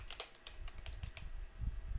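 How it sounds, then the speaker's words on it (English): Quick, light clicks from a computer keyboard patter in an irregular stream of keystrokes, close and fairly quiet, with no voices over them. "I'm purposely typing in Groot in lowercase, in small letters."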